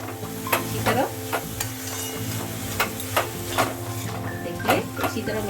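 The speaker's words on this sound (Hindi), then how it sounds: "ऐसा चला देना है, अच्छी तरह मिक्स कर देना है सब्जी के साथ में अच्छी तरह।" Corn, fenugreek leaves and masala stirred in a pan, with repeated scraping strokes and light clinks of the spoon over a steady low sizzle, close and fairly quiet.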